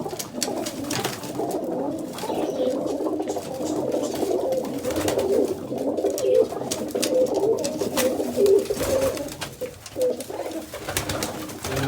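Pigeons cooing repeatedly in soft, throaty bursts, close and continuous, with occasional rustling and faint background noise.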